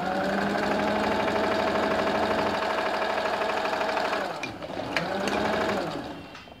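An electric sewing machine runs steadily while stitching ladies' straight-cut pants, a continuous close whir that dips and slows near the end before picking up again briefly.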